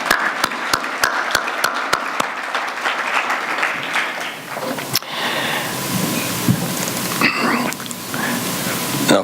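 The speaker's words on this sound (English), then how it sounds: "So I'd like to ask you all to clap your hands and thank all the volunteers who have" A large audience claps to thank volunteers at an annual summit, starting with a few sharp separate claps that swell into sustained broad applause lasting several seconds.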